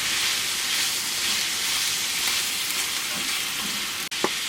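Onions fry with meat in a pan on a stove inside a camper van, giving a steady close hissing sizzle throughout, with a brief clink near the end and no talk.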